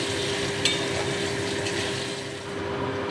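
Potatoes frying with tempering spices in a pan for a mustard fish curry, a steady close sizzle running without pause, with one brief clink partway through.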